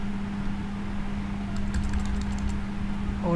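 Light, rapid clicking of computer keyboard keys as code is typed, faint over a steady electrical hum, with no talking.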